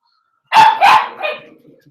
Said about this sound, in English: Frankie, stop barking. There's nothing there